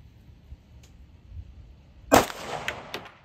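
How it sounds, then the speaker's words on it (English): Pistol fire from a Springfield Armory Prodigy 4.25 at steel targets: one sharp, loud shot followed by a bright clang of a hit, with fainter metallic rings trailing after against a quiet outdoor background. "Got a fully loaded 20-round magazine. And I'm only shooting steel."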